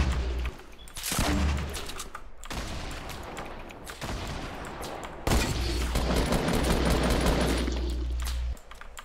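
Gunfire in the video game Fortnite crackles in rapid bursts and volleys of shots, loud and near, with brief pauses between bursts.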